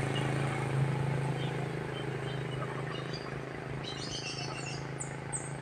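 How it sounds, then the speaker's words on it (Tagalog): Small birds chirp in scattered short calls over a steady low hum and breathy background noise at sunrise in the mountains of Negros Oriental, the tweets faint and intermittent, growing busier near the end. "naririnig po natin ang huni ng mga ibon"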